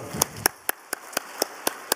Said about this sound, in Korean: 교회학교 다른 부서들을 위해서 뜨거운 박수로 위로합시다